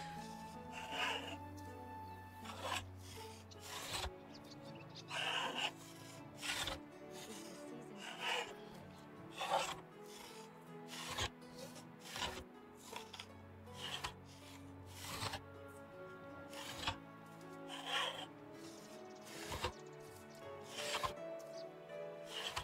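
Wooden boards are being worked in the Medieval Dynasty video game, a series of faint rhythmic rasping and knocking strokes repeating about every second or two over a quiet background.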